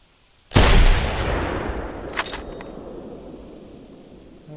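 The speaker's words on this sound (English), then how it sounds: "If I can lie on the ground here, I could probably get pretty nice shots here." A single loud rifle shot aimed at a T-Rex in theHunter: Primal, a sharp close blast followed by a long rolling echo that slowly fades, with a small click partway through the decay.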